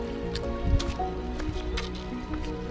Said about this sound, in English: water is coming from there